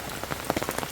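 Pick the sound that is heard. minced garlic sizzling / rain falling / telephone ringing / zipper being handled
rain falling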